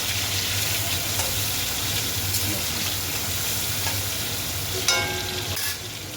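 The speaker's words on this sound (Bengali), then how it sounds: "চিংড়ি মাছটা ভেজে নিই।" Prawns frying in hot oil, a dense, steady close-up sizzle with a low hum beneath and a couple of brief utensil clinks near the end.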